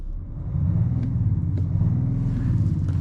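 A 2019 Audi S6 3.0 TDI six-cylinder diesel engine idles with a deep, even rumble that grows slightly louder after a moment and holds steady.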